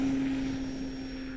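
A Carbon Z T28 Trojan RC plane flies overhead at an outdoor flying field, its propeller engine giving a steady, sustained drone with a constant tone that fades slightly over the short stretch.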